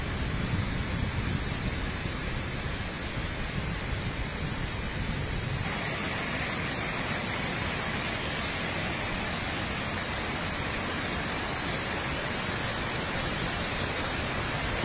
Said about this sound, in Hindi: रास्ते में बहुत ही सुंदर सुंदर झरने हैं